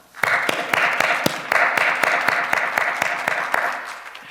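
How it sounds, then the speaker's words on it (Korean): A church congregation claps together in a sustained burst of applause, the sharp claps falling in a loose rhythmic pulse, fairly close and loud, with no speech. "다시 한번 하나님께 영광의 박수 올려드리겠습니다."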